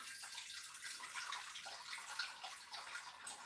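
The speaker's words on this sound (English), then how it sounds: "I'm going to put some water in there" Water poured from a tap into a pot for beef stew, a faint, steady hissing splash that runs without a break and stays quiet and close, with no voices.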